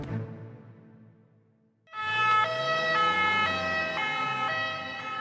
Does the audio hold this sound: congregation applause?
no